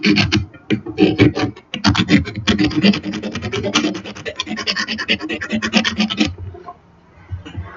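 Steady rasping scrapes of a blade cutting down a wooden stick, rapid and continuous at close range, with no talking, ending abruptly and leaving quiet.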